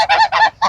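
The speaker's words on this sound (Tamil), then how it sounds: "இதுதாங்க வாத்த பாருங்க" A duck honks three times in quick succession, loud and close, each call a short nasal blast with brief gaps between.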